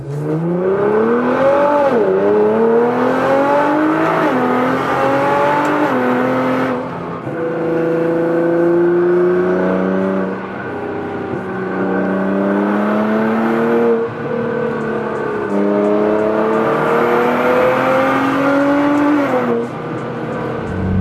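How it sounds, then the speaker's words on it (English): A small convoy of cars, two VW GTIs and a Nissan 370Z, drives on a road trip with loud, continuous engine drone whose pitch repeatedly rises with acceleration and drops at gear changes, close and steady throughout. "so the convoy begins. We got the GTI, we got the other GTI, and the 370Z"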